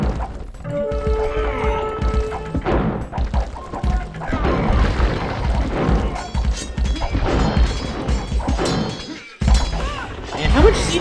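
Bombard towers fire at stone walls in a medieval strategy game, loud repeated crashes, thuds and shattering impacts amid battle noise.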